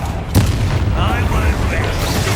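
The Confringo explosion spell in Hogwarts Legacy goes off as one deep, booming blast near the start, followed by a low rumbling tail.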